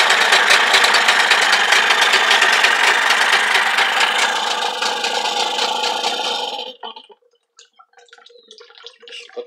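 A small outboard boat motor runs in water, spitting its cooling water stream: a loud, steady mechanical drone with splashing that cuts off abruptly after about six seconds, leaving scattered faint knocks and drips.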